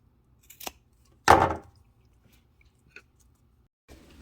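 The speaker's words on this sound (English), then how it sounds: "And then cut it to make 2 pieces." Scissors snip through a fabric piece, cutting it in half: a couple of short, quiet clicks, then one louder crisp cut, with near silence between.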